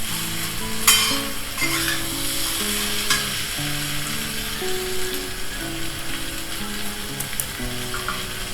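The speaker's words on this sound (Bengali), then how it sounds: "আলুটা একটু নেড়ে চেড়ে নিচ্ছি।" Boiled potatoes fry in a spiced masala as a spoon stirs them, giving a close, steady sizzle with scrapes and clinks against the pan, while faint tonal music plays underneath.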